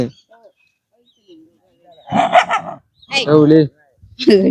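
A chained dog barks loudly and close by in three short bursts, each a quick run of barks, with near silence between them.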